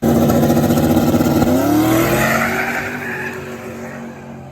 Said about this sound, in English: So the car made the pass.